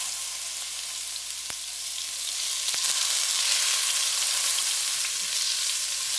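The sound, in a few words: ground beef sizzling in oil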